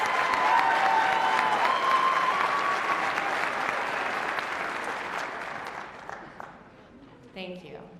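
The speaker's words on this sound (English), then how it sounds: "please join in applauding this exceptional group of students" A commencement audience at Kalamazoo Valley Community College applauds its graduating students, a dense wash of clapping that holds strong and then fades over several seconds into a few scattered claps and faint voices.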